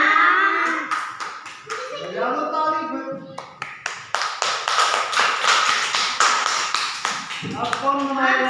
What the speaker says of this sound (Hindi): बजा दो ताली फिर।